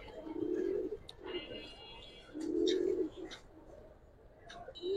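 Pigeons coo nearby in two rounded bursts separated by quieter gaps, with faint clicks and background noise between.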